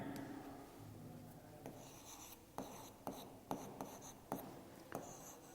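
Chalk or marker writing out a math problem on a classroom board during an arithmetic progression lesson, with soft scratchy strokes and a few sharper taps near and fairly quiet, no talking.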